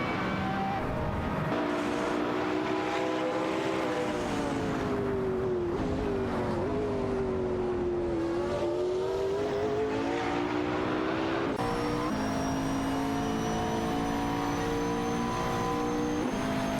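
Engines of race cars in a video game racing event, among them a McLaren GTR, drone and rev continuously with shifting pitch as several cars run close together, loud and unbroken with no talking.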